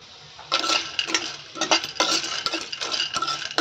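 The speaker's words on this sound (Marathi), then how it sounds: "त्यानंतर यामध्ये आपण वडे घालून घेऊया. तर आता आपण यामध्ये वडे घालून घेतले." Lentil vadas drop one after another into a pan with a little oil, giving a close run of clinks and scraping knocks against the metal under a soft sizzle, with no voices.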